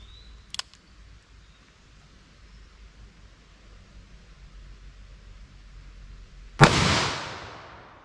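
A single loud .357 Magnum gunshot from a full-power hand-load with a 110-grain semi-jacketed bullet, fired into ballistic gel: a sharp crack near the end, ringing off briefly after several seconds of quiet background.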